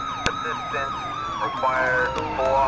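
Two police sirens in the GTA IV police mod wail together, their overlapping sweeping tones rising and falling loudly over engine noise, with a sharp impact-like click early on.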